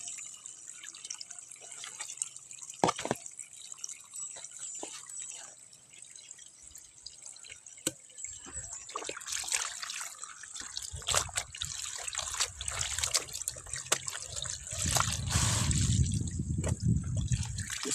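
Slow trickle of water from a tap, a thin steady dribble with occasional drips, quiet at first and growing fuller and splashier toward the end.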